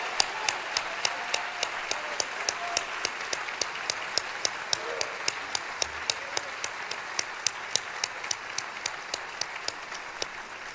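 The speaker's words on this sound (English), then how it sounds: "let's please give them a loud round of applause for all of their amazing academic accomplishment" An audience at a high school senior award ceremony gives sustained applause, a dense, continuous wash of many hands clapping with faint rhythmic accents running through it, steady in loudness for the whole stretch.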